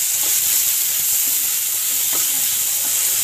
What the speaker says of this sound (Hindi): सिर्फ इसको फ्राई करना है।